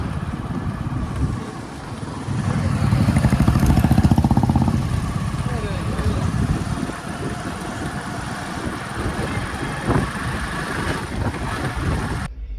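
A motorbike is ridden home after a milk delivery, its engine giving a steady rumbling drone mixed with wind buffeting, continuous and close throughout, swelling a little early on before settling.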